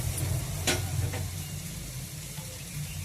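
Masala and vadiyalu fry in hot oil in a pan with a steady, dense sizzle and a couple of sharp scraping stirs near the start, close by and without any voices.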